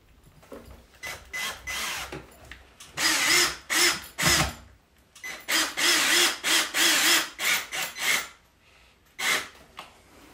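Power drill boring a second, lower hole in a wall to mount a curtain rod, in repeated whirring bursts that stop and restart, close and loud.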